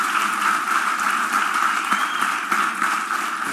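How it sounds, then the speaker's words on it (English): An audience at an academic keynote talk applauds in a steady, dense round of clapping that fills the whole stretch at even loudness, with no voices over it. "Let's give him another big round of applause."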